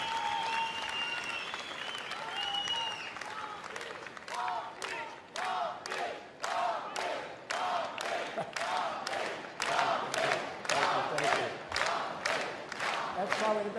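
A large audience at a homeland security event applauds and cheers as a speaker is introduced, dense sustained clapping with raised voices that swells and carries on at length.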